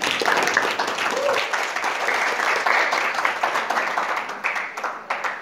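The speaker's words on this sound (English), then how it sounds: "Give him a clap." An audience at a youth inspiration forum applauds, steady dense clapping at fair volume throughout, with a few voices rising faintly underneath.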